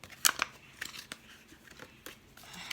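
Quick papery riffling and soft snapping of oracle cards being shuffled, a few brief bursts close by, then quieter handling.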